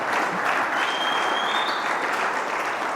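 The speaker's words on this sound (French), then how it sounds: "Merci beaucoup pour les applaudissements." An audience bursts into applause after a closing speech at a formal event in the DR Congo. Dense, sustained clapping from many hands fills the whole stretch at a steady level.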